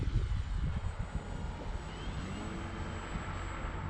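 A radio-controlled T28 model airplane flies slowly over a field, its propeller engine giving a steady, continuous drone at moderate distance with no talking.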